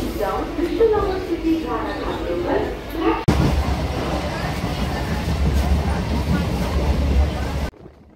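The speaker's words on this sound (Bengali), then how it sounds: "8:36 বনগাঁ লোকালটা ছিল রানাঘাট থেকে মাঝের গ্রাম ছেড়ে এখন আকাইপুর ঢুকছে" A Bongaon local train rumbles into Akaipur station after leaving Ranaghat and Majher Gram, with a steady heavy roar and rattle of wheels and carriages, close by and loud, and a voice talking over the first few seconds.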